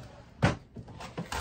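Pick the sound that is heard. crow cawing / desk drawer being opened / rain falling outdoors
desk drawer being opened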